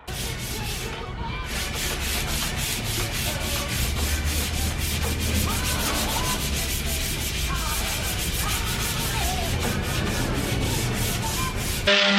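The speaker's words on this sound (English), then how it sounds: "then I went in with the orbital sander" An orbital sander works over the veneered wooden tabletop of a free mid-century dining set, a close, continuous abrasive buzz and rasp that holds steady for the whole stretch without pause.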